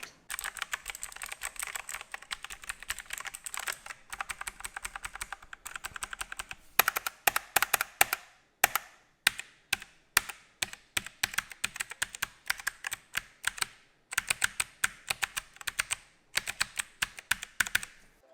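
Crisp, clacky keystrokes on a Logitech G512 Carbon mechanical keyboard, typed in quick bursts with short pauses, close and clear with no talking.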